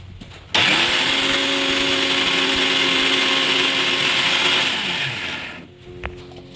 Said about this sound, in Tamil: இன்னும் கொஞ்சம் அரைச்சிடுறேன்